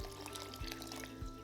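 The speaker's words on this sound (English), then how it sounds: "In the same pot over high heat, add 4 cups of water in it" Water splashes and pours steadily into a cooking pot over high heat, in a short, quiet, continuous stream.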